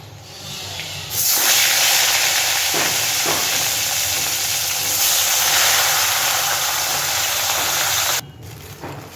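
Fish pieces dropped into hot oil burst into a loud, dense sizzle that holds steadily for several seconds at close range, then cuts off abruptly, with no talking, while cooking a light fish curry.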